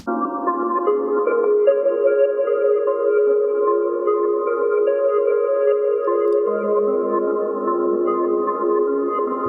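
An OP-1 synthesizer arpeggio plays sustained, layered tones that shift pitch in a continuous pattern, loud and clear with no voices.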